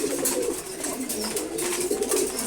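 Pigeons at morning feed give soft, continuous low cooing close by, a steady throaty murmur with no voices over it.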